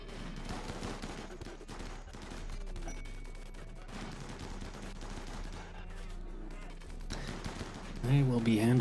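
Automated turret gunfire in Rimworld, a continuous rattle of rapid shots kept fairly faint and steady throughout, ending with a brief louder electronic tone.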